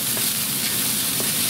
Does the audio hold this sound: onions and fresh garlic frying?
yes